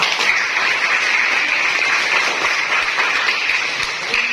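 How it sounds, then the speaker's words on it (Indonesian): Teachers applauding together at an Indonesian teacher gathering, a steady dense patter of hand claps that stays level and fairly close throughout with no talk over it. "Berikan dia tepuk tangan."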